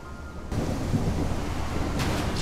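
A sudden thunderclap in the driving video game Endless Suburbia breaks into a dense, rumbling roar over steady rain, loud and close, with a fresh crack near the end.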